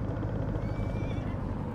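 A horse whinnies in Farming Simulator 19, a drawn-out, wavering neigh heard over a steady low background hum of the game, with no talking.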